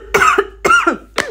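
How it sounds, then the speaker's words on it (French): A person gives three loud, close coughs spaced evenly apart, with no talking in between. "Permettez-moi de tousser."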